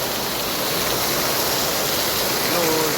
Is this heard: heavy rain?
yes